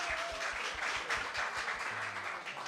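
A crowd at a singing contest claps for three women singers: steady, dense applause at moderate distance, heard alone and running throughout.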